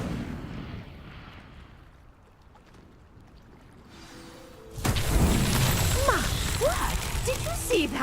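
In the Hogwarts Legacy video game, an Incendio fire spell ignites a pyre with a sudden loud whoosh midway through, after a quiet stretch, followed by sustained roaring flames and crackling.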